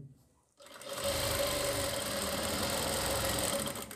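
After a brief quiet moment, a sewing machine starts up and runs continuously, stitching a belt onto a churidar pajami with a close, steady whirring hum until the end.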